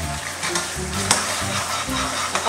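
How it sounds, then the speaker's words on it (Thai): Korean fish-roe fried rice seasoned with Korean chili powder sizzles in a hot pan while being stirred, steady close frying hiss broken by regular scraping strokes of the utensil, with no talking. "แล้วก็คนให้เข้ากันนะคะ"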